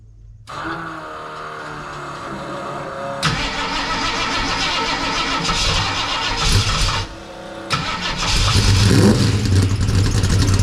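A 1969 Mercury Cougar with a new stainless exhaust cranks and fires, then settles into a loud, rumbling idle close by, with a couple of throttle blips and a brief dip before the revs rise again.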